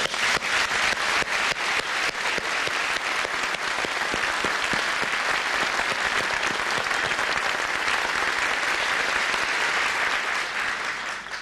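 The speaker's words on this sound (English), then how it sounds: "Let's give her a big round of applause." A large conference audience in Paris breaks into sustained applause for a speaker, dense, even clapping that carries on steadily for several seconds from a roomful of people, tapering only slightly at the end.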